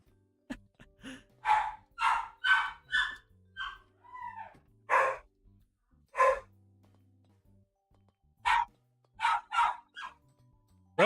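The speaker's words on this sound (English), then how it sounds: "sorry about the dogs barking" Two pet dogs, Loki and Lacey, bark in a string of sharp, fairly close bursts: a quick cluster, a pause, a single bark, then another cluster, with quiet gaps between.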